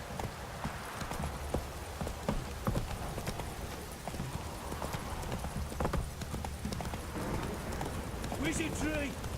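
Horse hooves clip-clop in a rapid galloping rhythm in The Witcher 3, moderately close and continuous, with game character voices and shouts over the top.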